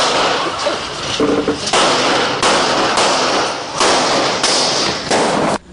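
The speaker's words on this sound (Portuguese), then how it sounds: "é possível ouvir 11 tiros" A rapid series of eleven sharp, loud gunshots in irregular bursts near a bar, echoing outdoors with no talking.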